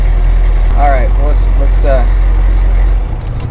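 A Humvee engine idling with a loud, steady low rumble close by, under someone talking briefly, settling slightly lower near the end.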